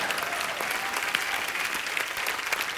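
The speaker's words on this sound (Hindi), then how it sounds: "जोरदार तालियां।" Studio audience applause on the Kapil Sharma comedy show stage, a steady dense wash of clapping sustained throughout at even loudness, with no voices over it.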